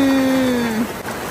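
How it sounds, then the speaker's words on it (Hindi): Heavy rain pours down in a steady, loud, broadband hiss that fills the whole moment, with a faint tonal hum running through it. "ये है बारिश का अपडेट, ये देखिए it's raining cats and dogs."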